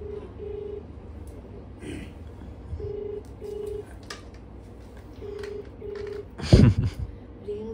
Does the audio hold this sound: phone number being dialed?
yes